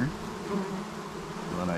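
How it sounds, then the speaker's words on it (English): Honey bees buzz steadily in a dense, close swarm around a hive frame, a continuous droning hum with no talking. "lots of bees."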